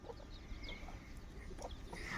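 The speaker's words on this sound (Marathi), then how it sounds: "कोंबड्यांची गँग आली लगेच आता चिल्लर गँग घेऊन सगळे खायला टमाटे" A group of farm chickens arrives to peck at tomatoes on a farm under cloudy skies, giving faint, scattered clucks and soft bird calls over a quiet outdoor background.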